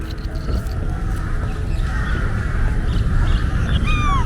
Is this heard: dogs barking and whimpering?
no